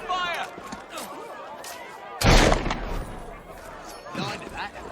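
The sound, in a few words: soldiers firing guns on protesters in Assassin's Creed Syndicate video game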